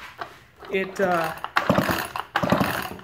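A chainsaw starter cord is pulled during a repair, making several quick, close ratcheting rasps and mechanical clatter. A voice is heard briefly before the pulls.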